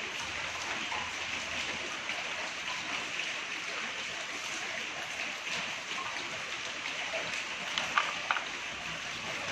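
Heavy rain falls steadily in a rural Vietnamese setting, a dense, even hiss that holds without a break. A few faint knocks surface near the end.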